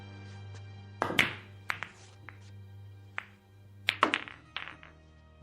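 Pool balls clacking on a billiard table during a radio drama shot: a sharp initial break of clicks, then scattered lighter knocks and rolling taps, one more cluster of collisions later, all fairly quiet and close.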